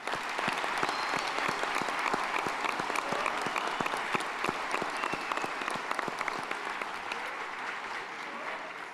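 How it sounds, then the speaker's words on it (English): A graduation audience at Valor College Prep's inaugural ceremony claps steadily, a full, even round of applause from a large room with sharp individual claps standing out throughout. "give a round of applause to yourself"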